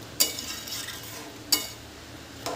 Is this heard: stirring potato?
yes